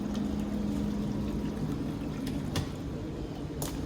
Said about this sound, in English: put it in my drain here and run the cold water through it